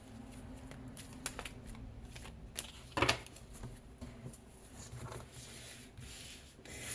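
Tarot cards being cut and shuffled by hand, a soft continuous rubbing and riffling texture with a sharper flurry of card snaps midway, close and quiet, without speech.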